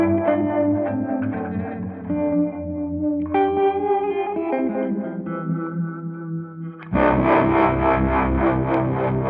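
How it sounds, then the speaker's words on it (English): Electric guitar chords ring out with lush reverb and some grit, sustained notes washing into one another before a louder strum near the end. "So with the reverb."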